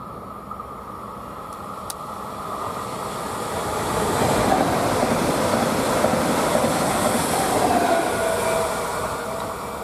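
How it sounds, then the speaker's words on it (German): A Trentino Flirt regional express train heading for Verona rolls through a station without stopping, a broad rushing rumble with rail noise that swells as it passes close and stays loud to the end. "Trentino Flirt, Regionalzug nach Verona, beziehungsweise Regionalexpress"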